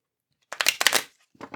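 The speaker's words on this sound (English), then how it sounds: "Let's shuffle the cards here." Tarot cards being shuffled by hand for a pick-a-card reading, a dry papery riffle in two quick bursts, the first longer and fuller, the second shorter after a brief pause, close and fairly quiet with no talking.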